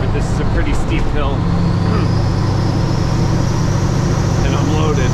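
Loaded semi truck climbing a steep hill at high RPM, a loud continuous engine roar with strong low rumble from inside the cab, while a person talks over it.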